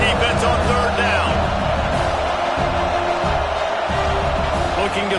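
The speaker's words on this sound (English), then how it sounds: "Decibels rising as the crowd gets behind this defense on third down." A stadium crowd roars steadily in a college football video game, Michigan at USC, rising for the defense on third down. The noise is loud and sustained, with commentary running over it.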